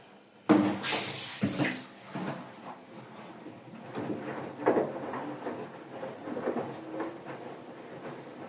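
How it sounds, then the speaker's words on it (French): Water gushes into a new washing machine being set up for a 90° white wash with Ariel powder, a loud rushing burst that settles into a steadier running flow with no talking. "Remettre de l'eau."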